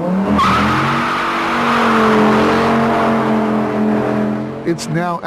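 A Dodge Viper sports car driving hard, its engine a loud, close roar that swells and eases in pitch, with a brief squeal and a short voice near the end.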